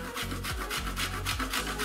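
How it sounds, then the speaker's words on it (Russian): Chocolate being grated on a fine grater for a no-bake homemade cake, heard as a steady series of close, dry rasping strokes in an even back-and-forth rhythm with no talk. "Торт почти готов, осталось только натереть на мелкой терке шоколад."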